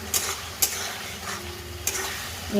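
Potatoes frying in a spiced masala with water, stirred with a few sharp scrapes over a steady soft sizzle, close and moderately quiet.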